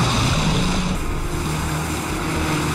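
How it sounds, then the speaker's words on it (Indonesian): Motorboat chase across water in an action film, a steady engine drone with low hum and broadband wash of spray and wind, continuous and fairly loud throughout. "Lin Yuan juga mengejar dengan kapal."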